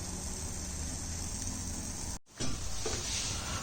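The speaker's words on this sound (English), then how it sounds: "at one station our fried onions are getting ready" Onions frying in a pan for chicken dum biryani give a steady, soft sizzle and hiss that breaks off for a moment and then resumes.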